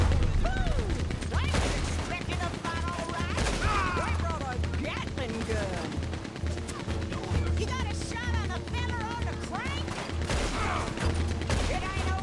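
Rapid gunfire in Red Dead Redemption 2, dense volleys of shots and bangs rattling continuously amid game effects, with someone talking over the shooting throughout.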